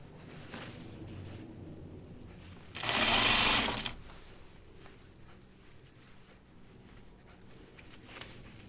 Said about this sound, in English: A little easier to sew this when the underarm is open.